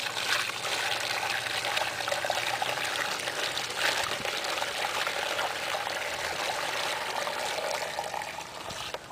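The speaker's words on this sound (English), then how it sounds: "I'm going to pour my hot boiling water inside my mortar tub here" Continuous, dense rush of hot boiling water pouring into a mortar tub, steady and close for the whole stretch, easing slightly at the end.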